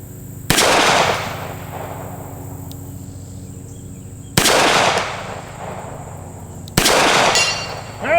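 Three sharp revolver shots from a Smith and Wesson 642 fired at a long-range outdoor steel target, spaced several seconds apart, each loud with a short ringing decay and faint background between.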